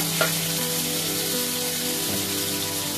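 Poppy seeds sizzling in hot oil during tempering, a steady close crackling hiss that runs unbroken, with a faint utensil tap near the start.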